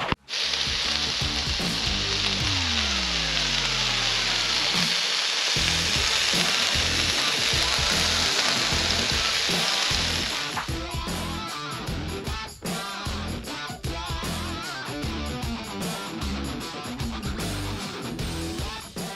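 Turkey kielbasa, peppers and onions fry on a camp stove with spices and a splash of home brew, a loud steady sizzle filling the whole stretch, joined partway by rattling mechanical clicks and knocks.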